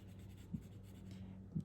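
A colored pencil, held at a slant and shaded with the side of its tip, whispers across paper while coloring a hummingbird, with faint continuous scratching and two soft taps.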